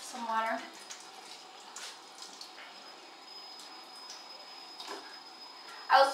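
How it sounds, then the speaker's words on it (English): Water is splashed onto a face at a bathroom sink in a skincare routine, with a few soft, brief splashes spaced apart over a steady faint hum and someone talking. "one last splash of some water"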